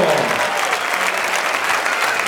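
Crowd applause at the Spanish road cycling championship in Soria, a dense, loud, steady wash of clapping that holds throughout.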